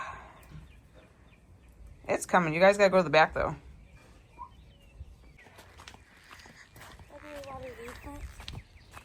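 A loud burst of harmonic quacking from a duck cuts in briefly, with people talking nearby before and after and another softer call near the end.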